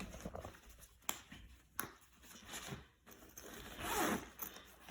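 A zipper is pulled back and forth several times on a fabric pouch, quick rasping strokes close up in a quiet room.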